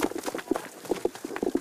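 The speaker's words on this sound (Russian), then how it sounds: "Вот сейчас я буду впервые в жизни выгонять коров на прогулку." Cows being driven out to pasture on a Volga ranch and eco-farm clop along on their hooves, a quick irregular patter of nearby hoofbeats with light background noise.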